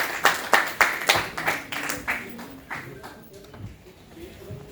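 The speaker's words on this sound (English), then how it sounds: "A huge round of applause" A small audience at a calendar launch event in Prayagraj claps in distinct, quick hand strikes that ring clearly for about two seconds, then thin out and fade as voices take over.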